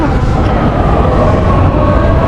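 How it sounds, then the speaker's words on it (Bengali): Metro train arriving at a station platform in Rome, a steady loud rumble and rolling rail noise throughout with no clear talk. "এই যে ট্রেনটা আসছে মেট্রো"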